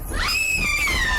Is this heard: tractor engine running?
no